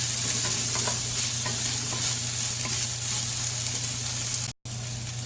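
Sliced onions sauté in oil in a pan for tomato chutney, a steady close-up sizzle with soft stirring scrapes throughout and a brief dropout near the end.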